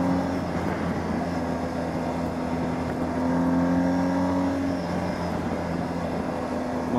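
A BMW R1250GS Adventure motorcycle's boxer twin engine cruising on a highway, a steady, muffled low drone with wind roar, revs rising briefly midway and holding on, continuous and close, with no voices.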